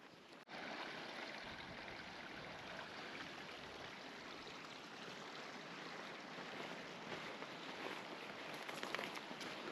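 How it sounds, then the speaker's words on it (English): Steady rushing of La Verkin Creek in Zion, a small creek beside the trail, flows continuously, a broad even wash of water that stays constant throughout with no voices. "It's a beautiful little creek running next to the trail."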